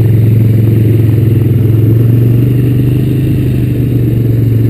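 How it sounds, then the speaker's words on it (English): A 2004 Honda Recon ATV engine drones loud and steady while riding along a sawdust path, a constant close mechanical roar with rattling clatter and no talking. "I'm out for a ride today on the 2004 Honda Recon, old yellow."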